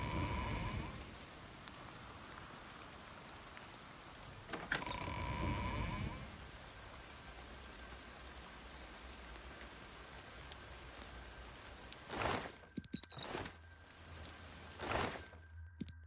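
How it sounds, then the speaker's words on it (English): Rain falling inside a tower in the video game Oblivion Remastered, a steady patter across the whole stretch, with a few louder low rumbles and splashy bursts near the end. "Sounds like it's raining inside the tower"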